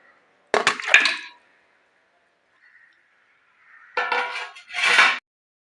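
Pieces of mutton dropped into a pressure cooker, two short bursts of clattering and clinking metal separated by near silence.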